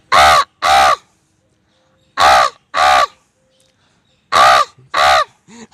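A man imitates a crow, giving three pairs of loud, harsh caws separated by short pauses, close and clear with no other sound.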